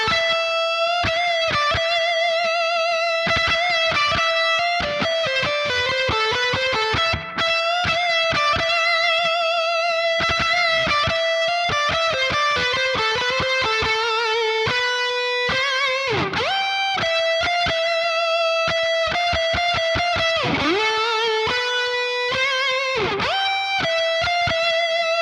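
An electric guitar plays through a 5150 Iconic amp with heavy spring reverb, giving loud, sustained distorted notes and bends. Fast picked runs ring out and wash into a reverb tail. No voices are heard.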